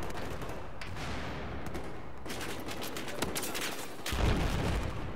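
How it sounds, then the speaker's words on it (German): Sustained gunfire aimed at the player in the Battlefield 4 beta, Domination mode: dense, continuous rattling shots throughout, swelling into a heavier, louder burst near the end. "Ich werd beschossen, ich muss weg hier"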